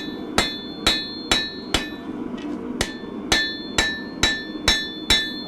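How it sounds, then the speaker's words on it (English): A hammer forging the bevels of a katana blade, about ten sharp, ringing metallic strikes in a steady, even rhythm with a brief gap midway, loud and close. "forging in the bevels, and then I'm correcting the width"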